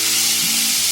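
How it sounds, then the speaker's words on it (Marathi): Chopped onion and tomato fry in a pan at home for ragda chaat, a steady close hiss of sizzling with no voices. "कांदा टोमॅटो दाखव चांगला फ्राय झालाय."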